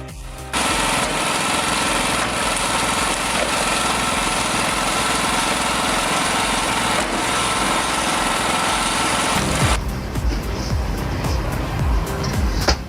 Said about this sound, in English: This homemade wood splitter is backyard engineering at its roughest. Built from scrap metal, chains, and a reused motor